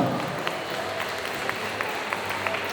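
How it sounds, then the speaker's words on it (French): Applause from the crowd at a solo cosplay contest at a French convention, a steady wash of many hands, fairly quiet and distant, with a few sharper claps standing out. "applaudissements pour Mandalorian 31"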